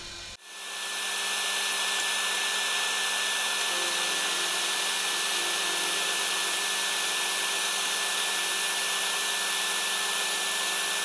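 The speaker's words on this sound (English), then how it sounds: "I use a vacuum where possible" A shop vacuum switches on and roars steadily at close range while a lathe cuts cast iron, a loud constant whine with no break, and a slight pitch shift early on.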